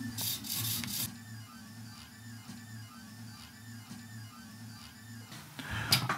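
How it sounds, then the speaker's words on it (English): An AxiDraw pen plotter fitted with a coreless servo upgrade runs steadily, giving a low, pulsing mechanical hum with faint scratchy motion, close and moderately quiet, broken by a brief louder rustle at the start and end. "I've been sitting here in the room with the servo, and it's obviously much quieter"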